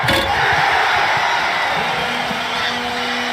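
A basketball arena crowd at a Georgia vs Florida game roars right after a steal, a steady loud wash of cheering and shouting that holds for about three seconds, with a commentator's voice faintly underneath.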